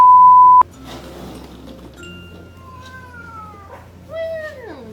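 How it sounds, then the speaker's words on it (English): A pet cat meows indoors during a home product haul, several drawn-out, falling cries after an opening electronic beep, close and fairly clear over low background hum. "So my cat wants to be part of the video."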